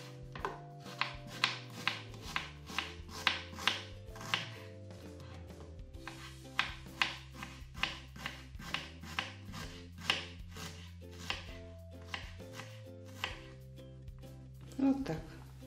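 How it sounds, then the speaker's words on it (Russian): A knife finely chops onion on a board in quick rhythmic runs of crisp taps, with short pauses between bursts, heard over steady background music. "Мелко порежем лук."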